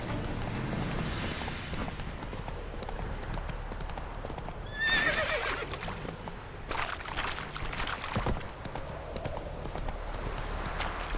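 Roach, a mare ridden in The Witcher 3: Wild Hunt, neighs loudly midway through a long stretch of steady hoof clip-clop, with a background bed of outdoor game ambience throughout.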